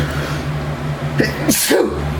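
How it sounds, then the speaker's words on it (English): A single loud, close sneeze bursts out after a sharp inhale, over a steady low electrical hum. "That was a big sneeze."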